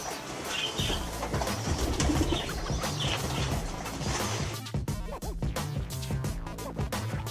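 Pigeon cooing in a low, repeated rhythm from a young bird close by, mixed with other bird sounds and clatter in a busy outdoor setting.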